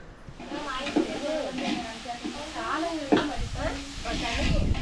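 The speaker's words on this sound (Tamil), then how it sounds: "குழம்பு தாளிக்கிறதுக்கு வந்து பாத்திரம் அடுப்பில் போட்டுட்டேன் இப்போ வந்து தாளிக்க போகிறேன்" Spices crackle and sizzle in hot oil as tempering for a chicken kuzhambu, with brief stirring scrapes, while a voice talks over the cooking.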